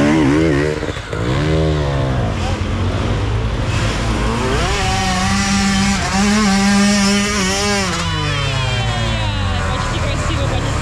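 An enduro motorcycle stuck in a rut at a Russian amateur enduro race revs loudly, its engine rising and falling in repeated surges; a commentator talks over it throughout.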